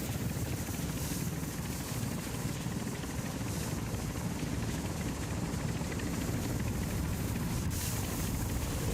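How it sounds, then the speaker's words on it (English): Helicopter arriving for exfil in the Call of Duty Black Ops 6 video game, a steady, loud rotor-and-engine drone filling the whole stretch with no talk over it. "Oh, I heard a chopper."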